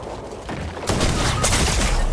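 Gunshots in a Fortnite ranked squads match, heard as a loud burst of rapid shots and impacts that stays dense after a sharp onset, close and heavy, with no talking.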